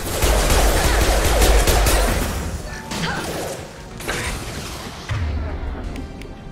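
Rifle gunfire in the sci-fi shooter Mass Effect 2, a loud burst of overlapping shots and impacts early on, then scattered thuds and blasts amid combat noise, with faint voices in the background.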